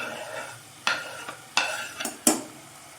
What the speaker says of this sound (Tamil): இதில் வந்து நம்ம மீடியம் சைஸாக கட் பண்ண தக்காளி சேர்த்துக்கலாம்.